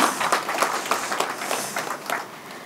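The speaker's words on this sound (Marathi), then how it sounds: "पुन्हा एकदा त्यांचं टाळ्या वाजवून आपण स्वागत करूया." An audience at a book-release ceremony claps to welcome a guest, a short burst of close, lively applause that gradually thins out.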